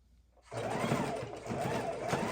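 A sewing machine chain-sews the fabric block of a soup bowl cozy, starting abruptly after a brief quiet moment and then running steadily and close for the rest of the time, with no voices.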